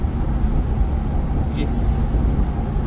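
Steady, loud low-frequency road noise fills a Ford Bronco hardtop cabin while driving, a constant rumble and hum with a brief high hiss partway through.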